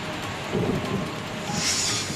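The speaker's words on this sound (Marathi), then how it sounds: "सोसाट्याचा वारा आणि विजांच्या कडकडाटासह शहरात पाऊस झाला" A city downpour with thunder and strong wind makes a dense, even hiss of heavy rain, with a low rumble swelling midway and a brighter gusty rush near the end. The whole stretch is short and moderately loud.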